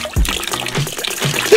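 Water sloshes and splashes in a dog's paddling pool as a Springer spaniel moves about, a short burst of irregular close splashes and trickles.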